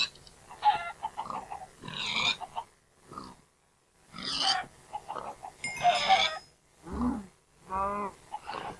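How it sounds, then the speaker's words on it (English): Farm animals in the Minecraft video game, including pigs, cows and chickens, grunt, moo and cluck in a busy series of separate calls at moderate loudness. "Plenty of cows, chickens, and pigs."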